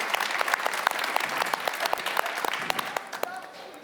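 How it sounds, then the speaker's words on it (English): Audience applause at a conference panel session, many hands clapping in a lively patter with sharp individual claps standing out, fading slightly toward the end. "You can give Steffi a round of applause."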